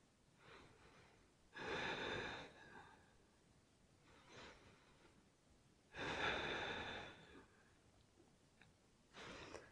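Slow, deep yoga breathing, close and audible: long airy inhales and exhales in an even rhythm, about three fuller breaths with softer ones between, no talking.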